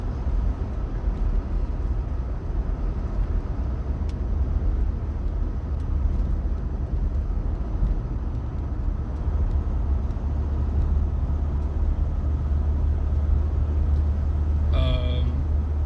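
Jeep Gladiator EcoDiesel truck cruising on a river road while towing an excavator on a trailer, a steady low engine and road drone from inside the cab, unbroken for the whole stretch with a brief whine near the end.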